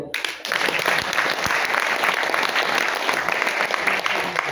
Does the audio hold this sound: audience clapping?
yes